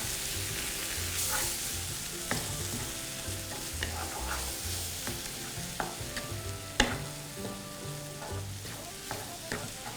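Thai roasted chili paste with shrimp and tamarind water stir-fried in a pan, with a steady oily sizzle broken by repeated scrapes and clinks of a spatula stirring, close and continuous with no talking.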